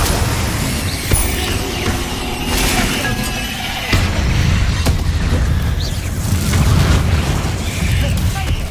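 Spell blasts from Confringo and Bombarda in the Hogwarts Legacy video game, booming bursts and shattering impacts repeating every second or two at close range, with faint voice fragments amid the din.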